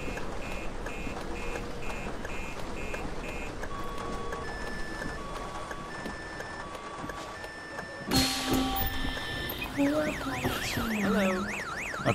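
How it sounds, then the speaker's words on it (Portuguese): A car alarm blares in the Bus Driver Simulator 22 video game. Repeating electronic beeps and stepped tones cycle steadily, and a louder warbling siren pattern takes over partway through, over the hum of the bus engine. "que barulho alto do alarme"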